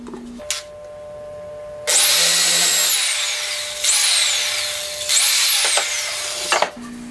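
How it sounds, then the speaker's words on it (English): A power drill bores a hole into the center of a square wooden dowel in three loud bursts, each winding up and then whining down, with short quiet gaps between them. "I'm gonna drill a hole in the center"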